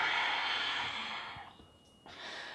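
A long, steady exhale during a yoga stretch, breathy and close, fading out near the end before a soft rush of air returns.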